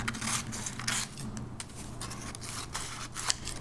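Scissors cut photocopied paper strips for a collage birdhouse, a series of close, crisp snipping strokes in an irregular rhythm, with no talking.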